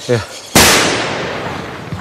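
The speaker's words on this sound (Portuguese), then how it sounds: "Esses tiros, os portugueses estão a chegar." A single sharp gunshot cracks out nearby, followed by a long rolling echo; a brief voice sounds just before it.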